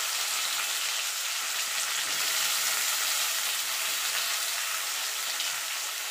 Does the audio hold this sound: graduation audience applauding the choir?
no